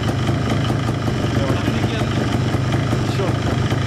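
A Minsk motorcycle engine runs with its chain removed, a quiet, even, rapid putter like a small scooter, held steady at close range.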